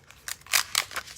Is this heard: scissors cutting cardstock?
yes